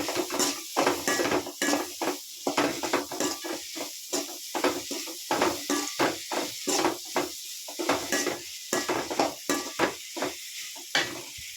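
Egg rice with curry and chicken masala being stirred in a hot pan: loud, close, rhythmic scraping strokes of a spoon against the metal, repeating about twice a second over a soft sizzle.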